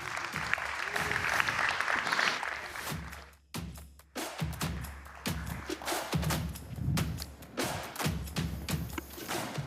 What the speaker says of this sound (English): May I have a seismic round of applause for Enrique Lian